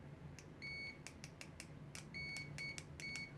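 A cheap Richmeters 404B multimeter beeps in continuity test mode, giving faint, short, irregular tonal beeps that cut in and out as the probes make and lose contact.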